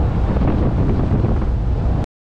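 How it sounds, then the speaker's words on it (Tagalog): Loud, constant roar of strong wind buffeting the microphone aboard a boat at sea, mixed with rushing water and rain, cutting off abruptly at the end. "lumalakas yung ulan. Pumapasok dito yung ano, yung pinakatubig sa barko ano. Kasi ang lakas ng sobrang hangin."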